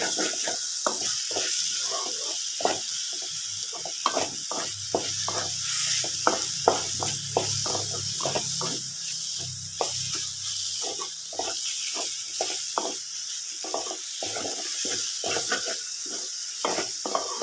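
Mashed banana mixture being stirred in a cooking pan, with a steady run of scraping, slapping spoon strokes and a soft sizzle underneath, repeated continuously and close up.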